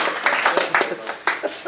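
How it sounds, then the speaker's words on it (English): A short burst of clapping from a press conference audience at a boxing event, scattered and uneven claps that swell briefly and then thin out within under two seconds. "Round of applause for keeping so short."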